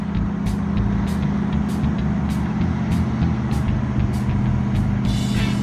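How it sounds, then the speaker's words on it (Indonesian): A heavy transporter truck hauling large equipment creeps slowly into a railway tunnel at Gunung Bohong, its deep engine drone steady and loud throughout, with faint periodic high ticks and a brief hiss near the end. "secara perlahan-lahan Komito Truk Transporter akan segera masuk pada tunnel 11 di Gunung Pohong"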